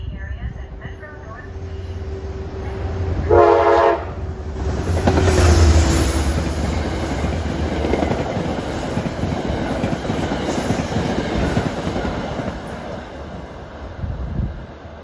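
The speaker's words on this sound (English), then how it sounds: "approaching is train 851 en route from Grand Central to Beacon with the Beach Ball Heritage Unit number 208" Metro-North commuter train 851, Grand Central to Beacon, led by heritage unit 208 in beach-ball paint, passes on the Hudson Line with a brief loud horn blast around four seconds, then a steady rumbling roll of cars; speech present.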